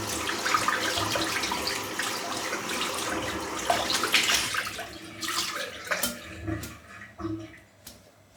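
Water runs steadily from a tap as a shaving brush with a hand-tied knot is rinsed of soap lather, a continuous splashing wash that thins out into intermittent trickles and small splashes toward the end, with no one talking.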